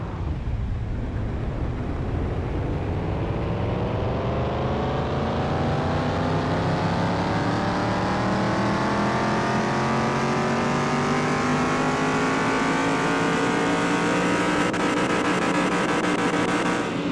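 A carbureted car engine on a dyno in the Car Mechanic Simulator 2021 video game revs up in one long continuous pull, its loud, rising drone climbing steadily in pitch over about seventeen seconds.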